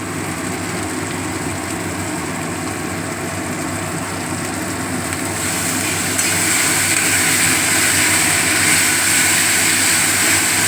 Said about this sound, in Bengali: চিমনি চলছে যার জন্য এই অবস্থা হচ্ছে